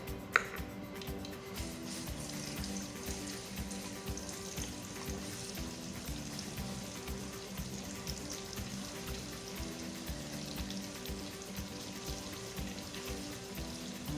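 Garlic fries in olive oil for a shrimp Alfredo sauce, giving a steady, fairly quiet sizzle that carries on evenly throughout with faint ticks and crackles.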